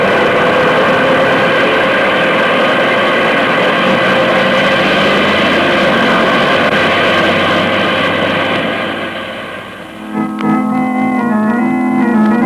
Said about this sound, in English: So get the plane off the ground.